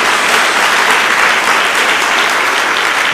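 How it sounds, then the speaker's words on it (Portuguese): A church congregation claps loudly and steadily for about three seconds, a dense, continuous wash of many hands with no pauses. "Dê uma salva de palmas a Jesus."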